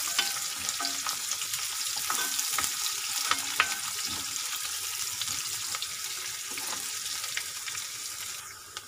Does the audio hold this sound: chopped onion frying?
yes